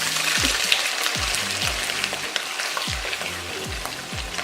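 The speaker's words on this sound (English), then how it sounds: "So we want to fry that at the same time as the sausage." Canned sardine frying together with sausage in a pan, a steady close sizzle and crackle with a few low stirring scrapes recurring throughout.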